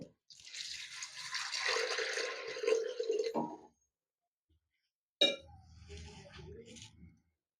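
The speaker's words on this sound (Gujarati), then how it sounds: "અને આપણે આ પાણી નાખશું" Water splashes and patters into a metal pressure cooker holding potatoes for a few seconds, then stops; after a pause, a lighter clatter and faint rattling follow.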